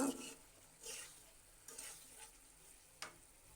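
Curry masala being stirred in a pan before hilsa fish goes in, with potato and eggplant, quiet low sizzle broken by three or four soft swishing scrapes of a spatula, faint and close, no voices.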